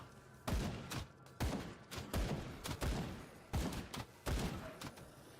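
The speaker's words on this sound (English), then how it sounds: "Stop throwing bombs at me" Repeated explosions from bombs thrown in the action RPG Grim Dawn, about seven loud booming blasts at irregular intervals, each a sharp burst with a short rumbling decay, close and dominant.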